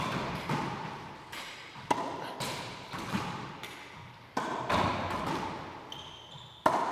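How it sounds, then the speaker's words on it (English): Racquetball rally of ceiling shots on an indoor court: a series of sharp, echoing thuds roughly every second as the ball strikes ceiling, wall and floor, each ringing out in the reverberant room, with no talking. "You hit the ceiling shot, and I hit the ceiling shot."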